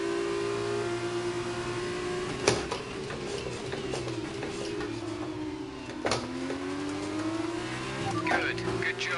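A Formula 1 race car in the F1 2019 video game drones steadily at high revs, with the engine pitch dipping and climbing as it overtakes another car, and a few sharp clicks over the sustained roar.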